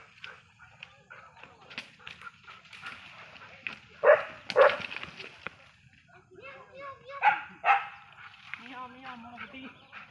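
A dog gives a few sharp barks and yips amid people talking nearby, the barks coming in short bursts.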